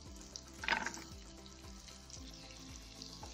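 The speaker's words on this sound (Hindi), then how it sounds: "हम सबसे पहले प्याज, अदरक और लहसुन को फ्राई करेंगे" Onion, ginger and garlic frying in a little oil: quiet sizzling with a brief louder burst of crackling near the start, then settling into a steady low frying hiss.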